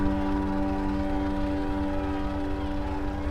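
Several police car sirens wail together in a busy plaza, a loud, sustained layered tone that barely changes pitch over a few seconds, with a rumbling hum of traffic and crowd beneath and no clear speech.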